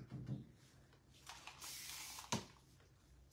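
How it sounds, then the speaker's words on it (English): A spray bottle mists vinegar and water onto a clay-painted dress in a few short, soft hissing bursts, followed by a sharper spritz, in a quiet room with no talking. "Spray it with a little more vinegar and water just to get that kind of showing through."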